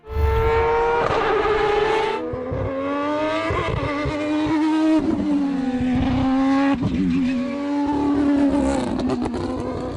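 A Mazda Furai race car engine revs hard and high toward 9,000 RPM, its pitch climbing and dropping repeatedly in loud, aggressive surges.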